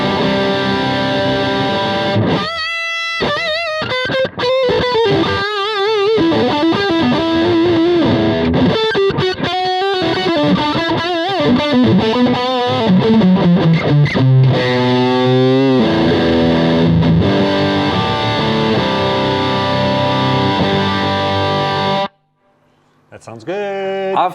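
A heavily distorted electric guitar through a 10-watt Mesa Boogie mini amp plays a gritty riff with bends and sustained notes, loud and up close, stopping briefly before one last chord.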